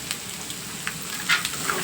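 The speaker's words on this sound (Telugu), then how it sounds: "నేను ముందుగా కట్ చేసి పెట్టుకున్న క్యారెట్ ముక్కలను కూడా ఈ పోపులో వేసేసుకుంటున్నాను" Carrot pieces hit hot tempering oil for a simple carrot fry, producing a steady close sizzle with a few sharp spits and crackles over a couple of seconds.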